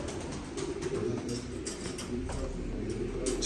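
Tumbler pigeons, plain white birds, coo softly and steadily at close range, with faint chirps and bird calls over a low, continuous background murmur.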